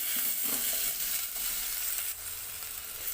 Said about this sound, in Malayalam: പച്ചമണം മാറണ വരെ ഒന്ന് വഴറ്റിയിട്ട് നമുക്കൊരു പ്ലേറ്റിലേക്ക് മാറ്റാം